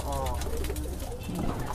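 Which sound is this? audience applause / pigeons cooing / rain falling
pigeons cooing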